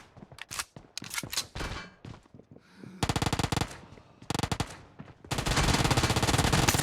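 Loud gunfire: scattered single shots and short bursts give way to long, rapid machine gun volleys that rattle on without pause, with no voices.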